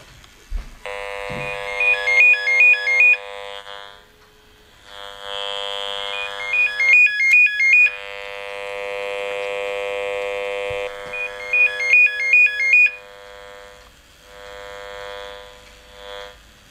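A loud electronic buzzing in repeated bursts from mobile phone electromagnetic interference, each with a rapid chattering pulse pattern, separated by short gaps and a steady hum underneath.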